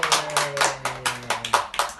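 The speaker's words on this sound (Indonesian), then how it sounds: "Ya, tepuk tangan untuk kita semua." A group claps hands together after a classroom role-play about bullying, a brief run of loose, uneven claps with a voice speaking and a sustained tone underneath.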